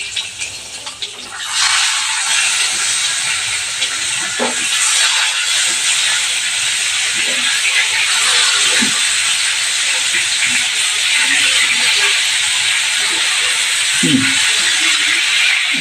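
Stuffed tomatoes steam under a lid, giving a strong, continuous hiss that starts after a brief quieter moment and holds steady, with occasional soft bubbling pops underneath.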